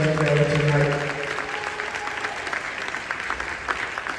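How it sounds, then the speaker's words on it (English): A city-hall audience at a State of the City address applauds, starting under a voice speaking briefly at the start, then steady, fairly close clapping that continues evenly to the end. "Give my staff a round of applause for putting this production together tonight."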